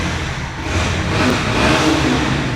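A second-hand Bajaj Discover motorcycle engine revs up close and loud, a rough, continuous mid-pitched roar that swells slightly over a couple of seconds, with no talking.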